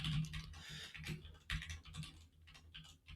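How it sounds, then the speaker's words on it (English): Quick uneven clatter of fingers typing on a computer keyboard, a run of close, soft key clicks with brief pauses, fairly quiet and with no talk over it. "This is the downside of talking and typing at the same time."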